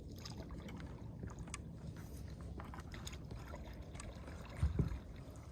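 A paddle dips and sweeps through the water beside a stand-up paddleboard, giving faint, soft watery swishes, with one slightly louder splash near the end.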